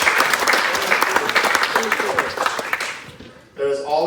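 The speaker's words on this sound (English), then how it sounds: "let's get a round of applause for that" Wedding guests at a couple's reception break into dense applause that holds steady for about three seconds, then fades, with voices mixed in and a short burst of talk or cheering closing it out.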